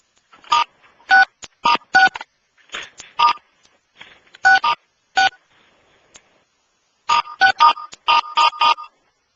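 Telephone keypad tones ring out in bursts as buttons are pressed on a conference call, clear and fairly loud with short gaps between groups of beeps and no talking.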